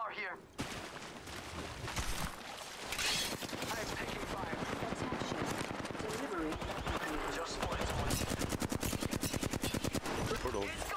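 Rapid automatic gunfire from a Flatline assault rifle rings out in an Apex Legends Season 11 match, a dense, loud stream of shots running nearly nonstop with brief pauses, layered with game voice callouts.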